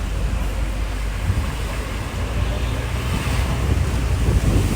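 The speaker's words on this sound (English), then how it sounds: "It's very windy, but that's okay." Strong wind buffets the microphone by the water on a rainy fishing outing, a constant loud roaring rumble with gusty swells, mixed with the wash of waves.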